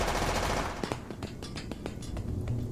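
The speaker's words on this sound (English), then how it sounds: "I think the gunfire stopped" Bursts of machine gun fire crackle at a moderate distance, a string of sharp rapid shots over a low rumbling background, with no talking.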